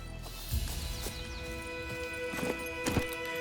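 Roach the horse in The Witcher 3 moves along with a few scattered hoof thuds over steady game ambience and music, the beats sparse rather than a continuous gallop.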